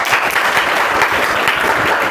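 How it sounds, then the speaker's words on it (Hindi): An audience claps at a motivational talk on self-confidence, giving dense, steady applause with many hands overlapping throughout, loud and close, with no speech. "चलिए एक बार इनके लिए ताली बजाइए।"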